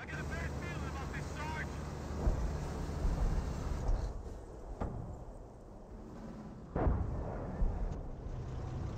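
An artillery barrage in the Company of Heroes video game, with several booming impacts scattered over a rumbling battlefield mix, moderately loud, while a voice talks over parts of it.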